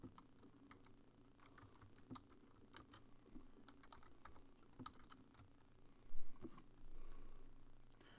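Someone types steadily on a computer keyboard during a live MMA trivia stream: a close, uneven patter of key clicks over a faint hum, with a couple of louder bumps near the end.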